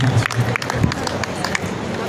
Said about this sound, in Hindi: जोरदार तालियां इस सदन में